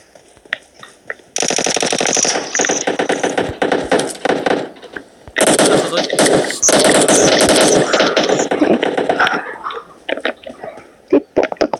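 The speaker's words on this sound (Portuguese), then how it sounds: "tem alguém que tá atirando aqui" Gunfire in the battle-royale video game PUBG: dense bursts of automatic fire in two long volleys, loud and close, followed by scattered single shots trailing off.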